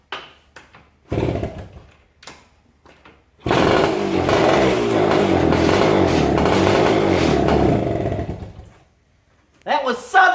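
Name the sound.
kickstarting a Yamaha enduro two-stroke motorcycle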